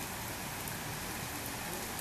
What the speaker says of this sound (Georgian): დირომშიც საკმაოდ ძლიერი წვიმა ამ წუთებშიც